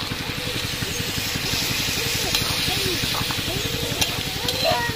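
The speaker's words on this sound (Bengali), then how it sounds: "এর মধ্যে জল দিয়ে দিচ্ছি, মশলার জলটা" Spiced water hits mixed vegetables for a Bengali panchmishali sobji chhokka in a hot pan, setting off a steady, close sizzle with a faint rhythmic pulse throughout.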